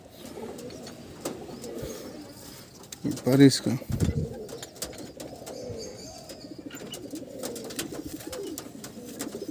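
A pair of fancy pigeons coos in a loft, soft low calls running under someone speaking, with a brief louder flutter midway.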